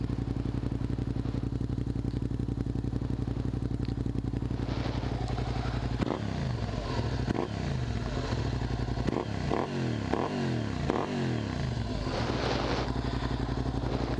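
A Suzuki SV650 motorcycle engine fitted with a Hindle exhaust idles steadily nearby, then blips through a series of sharp throttle revs with crackling, clattering pops, settling back into a rumbling idle.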